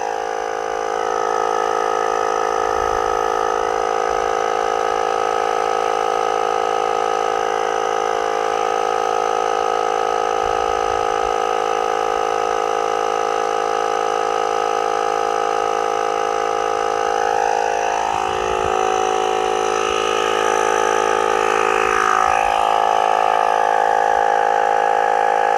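A Worx WX092 20V cordless tyre inflator pumps up a tyre, its motor holding a loud, steady, buzzing drone from start to finish with only slight wavering near the end.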